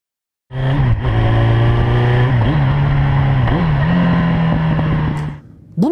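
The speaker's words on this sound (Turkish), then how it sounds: "Debriyajı çektiğim anda bir yandan da gaz veriyorum sağ elimle." A motorcycle engine revs up in several quick bursts with the clutch pulled, its pitch climbing and dropping over a steady loud idle, close to the microphone.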